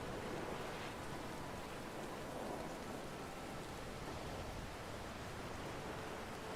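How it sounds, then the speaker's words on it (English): Heavy rain pours onto the deck of a sailing ship in the video game Pillars of Eternity II, a dense, steady hiss of downpour and water washing across planks and rails, continuous and close with no talk. "rain pours from the sky as if the Defiant had come to rest beneath a waterfall"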